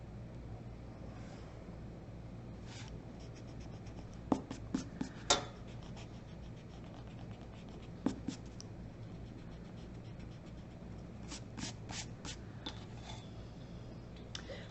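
Pencil drawing lines along a ruler on paper for one-point perspective letters, faint scratchy strokes in short bursts with occasional taps of the ruler, quiet and without talk.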